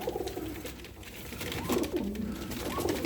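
Adana pigeons coo in soft, repeated low rolling calls, fairly close, with steady background noise and no talking.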